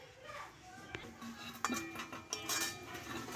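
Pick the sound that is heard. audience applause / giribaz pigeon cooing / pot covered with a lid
pot covered with a lid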